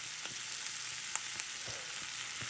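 A cheesy apple pie omelette sizzles steadily in a frying pan, a continuous hiss broken by a few soft clicks and taps of a utensil, with no talking.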